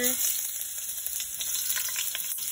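Ginger sizzling and frying in hot cooking oil in a pan, a steady close crackle with faint stirring, the first step of a crab dish with coconut milk, squash and long beans.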